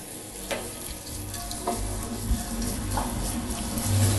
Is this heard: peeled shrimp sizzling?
yes